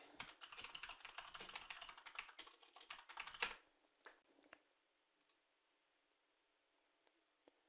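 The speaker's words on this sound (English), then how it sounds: "I just need to remember what NVDA's keyboard shortcut was for next paragraph." Computer keyboard keys tapped in a rapid, close burst for about three seconds while looking up an NVDA screen reader shortcut, then near silence broken by a few isolated clicks.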